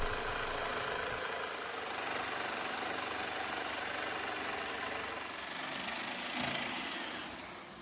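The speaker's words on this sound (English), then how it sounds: "I'm going to get my saber saw and cut that out." A saber saw cuts out a boat mold station, a continuous buzzing, rasping drone held for several seconds, with a shop vacuum exhaust blowing nearby and no talking.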